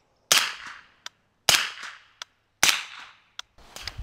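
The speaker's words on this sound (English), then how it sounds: "shooting it dry with subsonic ammo" Three sharp, loud reports from a suppressed short-barrel Angstadt Vanquish fired dry with subsonic ammunition, evenly spaced about a second apart, each followed by a brief decaying ring and a small mechanical clack, with a fourth shot beginning at the end.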